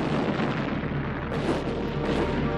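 Ottoman cannon fire against the walls of Constantinople in 1453, a dense continuous roar of booming blasts rolling together, loud and sustained with no clear gaps.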